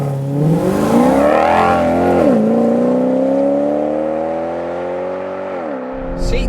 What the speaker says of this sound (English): So let's bring on the Maserati.